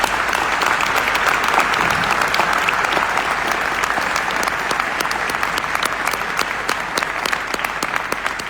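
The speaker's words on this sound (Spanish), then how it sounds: "le pido un fuerte aplauso para los chicos del Centro de Estudios Producción" Loud, dense audience applause fills a book-launch hall for a cultural-politics title, a steady wash of many hands clapping that holds evenly for over eight seconds before easing slightly at the end.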